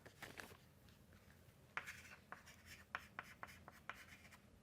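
Chalk or marker writing on a board during a lecture, a series of faint scratchy strokes and taps at an irregular rhythm, with no talking.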